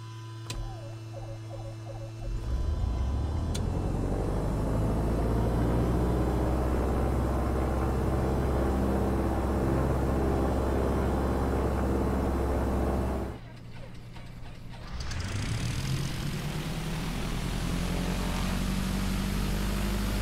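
A Just Flight PA28R Arrow piston single in Microsoft Flight Simulator cranks over, its engine catches and runs at a loud, steady roar, briefly drops and then settles into a lower idle.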